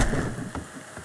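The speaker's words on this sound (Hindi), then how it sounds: "ये बारिश ये बहुत गंदी चीज है." Rain falls in the video game Red Dead Redemption 2 as a steady hissing patter with a few faint drop ticks, continuous and moderately loud, without speech.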